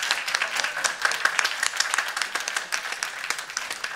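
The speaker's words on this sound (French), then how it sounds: "on peut applaudir frères et sœurs" A church congregation applauds at an in-person Sunday worship service, steady dense clapping from many hands filling the room without pause.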